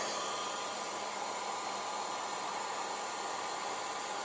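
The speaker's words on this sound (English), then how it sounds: "It's on cool setting. This wave top dryer has a cool setting." Bonnet hair dryer running on its cool setting, a steady, faint whooshing airflow hum with an even level throughout, no speech over it.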